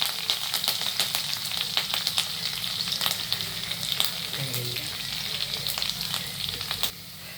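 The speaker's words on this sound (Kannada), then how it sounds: "ಕರಿಬೇವು ಬೆಳ್ಳುಳ್ಳಿ ಫ್ರೈ ಆಗಿದೆ." Steady crackling sizzle of curry leaves and garlic frying in hot oil, with scattered sharp pops and spatters throughout, close and fairly loud, no talking.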